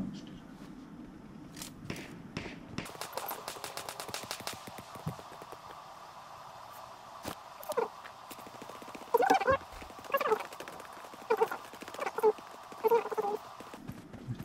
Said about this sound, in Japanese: めっちゃ足音するけどどこに行くか全然わかんない。